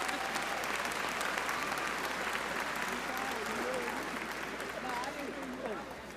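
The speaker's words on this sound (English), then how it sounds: "let's have a round of applause for Mr. Dan Mitch Kay." A high school graduation audience applauds in a big hall: dense, steady clapping holds for several seconds, with scattered cheers and whoops rising above it before it fades slightly at the end.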